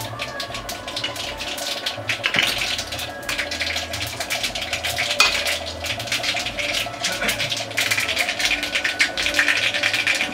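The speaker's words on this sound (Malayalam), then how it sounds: "അപ്പോൾ നമ്മുടെ കടുക് അവിടെ പൊട്ടാൻ തുടങ്ങി" Mustard seeds spluttering in hot oil while making dhokla: a steady, busy crackle of many tiny pops, close and fairly loud, continuing throughout over a faint low hum.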